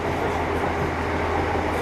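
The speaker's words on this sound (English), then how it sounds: "We're on the train." Steady broadband rumble and hiss from inside a moving train in Wales, heard continuously at close range with no distinct clacks or voices standing out.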